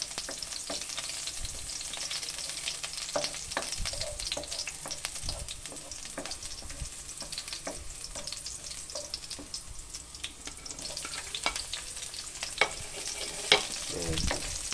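Garlic frying in a pan for sardines with bitter melon, a steady crackling sizzle throughout with scattered sharper pops and a few louder spatters near the end, no voices.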